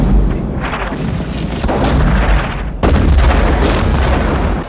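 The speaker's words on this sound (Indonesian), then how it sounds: "Di luar benteng, tentara Perancis telah menyiapkan meriam dengan peluru lebih besar" Cannon fire from a French army battery pounding a fort in a war film, a dense sustained barrage of heavy booms with a fresh loud blast about two thirds through, no voices.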